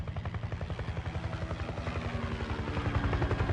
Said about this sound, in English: A little helicopter.